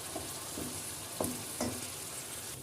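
Tomatoes and tomato paste sauté in a pan for a bulgur pilaf, giving a steady low sizzle with a few soft stirring scrapes. No one speaks over the frying.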